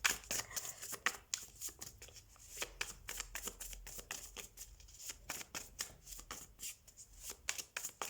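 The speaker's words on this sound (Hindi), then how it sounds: "पहले मैं सारे कार्ड्स निकाल लेती हूँ" Tarot cards drawn from a deck and shuffled in quick bursts of crisp riffling and slapping, close and fairly quiet, with short pauses between runs.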